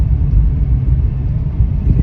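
A used car rolls along on a test drive, a steady low interior rumble of engine and road noise with no talking over it.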